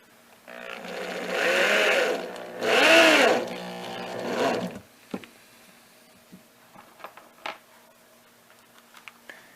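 Two bursts of a cordless power drill driving screws into wooden tortilla press boards, each whine rising and slowing as the screw seats, followed by quieter clicks and taps.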